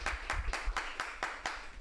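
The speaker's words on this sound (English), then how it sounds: "How about a round of applause for Tammy" Several steady hand claps in an even rhythm, about six or seven distinct beats, from a small group applauding a woman at a funeral gathering, fairly close and not very loud.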